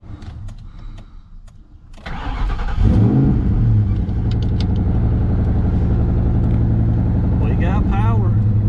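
Ford Mustang Cobra with a rich fuel smoke condition cranks for about two seconds, then catches and settles into a loud, steady idle close to the mic, with a short rev near the end.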